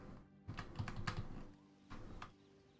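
Quiet clicking on a computer keyboard in two short bursts of typing, close by and faint, with no voices.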